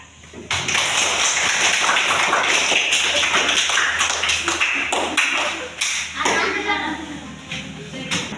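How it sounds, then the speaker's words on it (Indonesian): Classroom applause for a student group, a dense patter of many hands clapping steadily for several seconds after a short quiet start, with a brief dip and resumption near the end. "kita berikan aplaus kepada kelompok Farhat."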